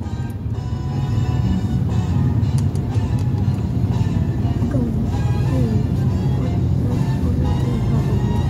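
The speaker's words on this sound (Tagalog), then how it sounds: "traffic grabe." Monday road traffic rumbles close by, a steady loud drone of passing cars and engines with no clear breaks.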